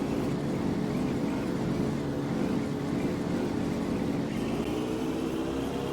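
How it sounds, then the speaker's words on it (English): A car engine in the video game Gran Turismo 5 gives a thin, buzzy, lawnmower-like drone, steady and moderately loud throughout with no other sounds standing out. "listen to that glorious lawnmower engine"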